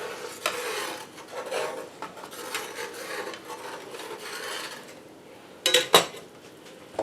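A spoon scrapes and rubs through a pan sauce for beef Wellington, in a steady stretch of stirring that ends with a few sharp metallic clinks against the pan. No one talks.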